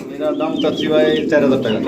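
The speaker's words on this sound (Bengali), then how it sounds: "এটা কিন্তু নরকবুতার দেখতে পাচ্ছেন" Pigeons coo up close, low throaty calls rolling on continuously for a couple of seconds.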